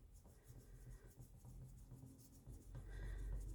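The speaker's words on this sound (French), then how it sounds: "je vais bien marquer les plis" A bone folder is pressed repeatedly along folds of paper for an album structure, making a steady low rubbing and soft scraping, close up and quiet, with no voices.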